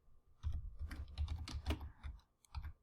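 Rapid, uneven keystrokes on a computer keyboard while setting up a Tableau dashboard, clustered in quick bursts with brief pauses, close and fairly quiet, with no talking.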